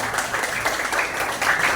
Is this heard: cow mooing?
no